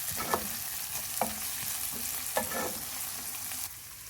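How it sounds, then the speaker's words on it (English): Fresh chilies fry in ghee in a pan with a steady close sizzle, broken by a few sharp stirring clicks at regular intervals, with no speech. "Add in 5 fresh chilies and fry for an additional minute"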